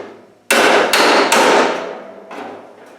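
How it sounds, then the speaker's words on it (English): Hammer striking against a dolly to straighten a metal bulkhead panel, several sharp ringing clangs in quick succession, close and loud, each decaying briefly. "Just use the hammer and dolly on here just to straighten that panel out a bit."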